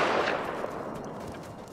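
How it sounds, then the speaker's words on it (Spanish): A suppressed bolt-action rifle in the Rust video game fires once, a muffled, faint shot at the start that trails off into a soft decay. "Me han dado con el bol silenciado"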